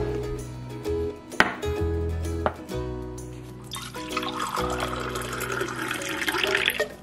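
Fresh pineapple chunks are dropped into a cup of water, giving a few sharp clinks and plops followed by a brighter, sustained splashing and trickle of liquid.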